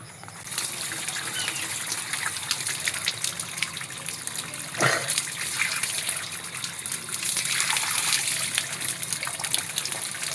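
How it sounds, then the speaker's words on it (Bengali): Water gushes and splashes steadily from a tap fed through a motor pump and filter as someone washes their face, close and continuous with a few louder surges and no talk. "চলুন মুখটা ধুয়ে লই"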